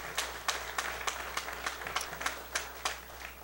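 Sparse applause from a small audience at an announcement event for a chemical facility expansion, with individual claps landing in a loose, steady rhythm at moderate distance over a low background hum.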